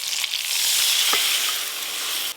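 A spice mixture fries in a hot pan while aloo dum is made, a loud, steady sizzle close up with a faint stir partway through and an abrupt stop at the end.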